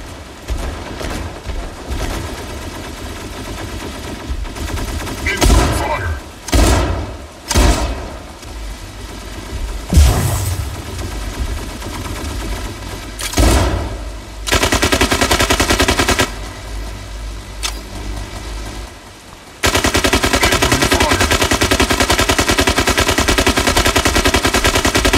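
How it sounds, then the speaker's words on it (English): Incoming gunfire in a video game, with sustained loud automatic bursts and scattered heavier impacts over about twenty-five seconds, becoming a dense continuous roar near the end, with no talk. "Incoming fire!"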